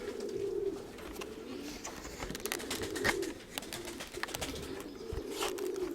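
A pigeon coos repeatedly inside a dovecote, soft rolling calls recurring through the stretch over a faint background of rustling and small knocks, with no talk.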